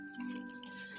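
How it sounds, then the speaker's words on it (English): Orange juice pours into a glass, a faint, steady liquid trickle with light splashy gurgles, heard close and alone. "So she's going to pour orange juice"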